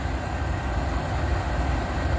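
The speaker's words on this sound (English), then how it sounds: "4218 is out running, but it's idling." A diesel freight locomotive idles at a station, a steady, low, continuous rumble with broadband engine noise and no pauses.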